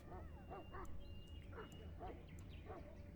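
Mabari war hound from Dragon Age Origins, a big fantasy warhound, giving several short yipping barks and whimpers in a steady run over a busy game background mix.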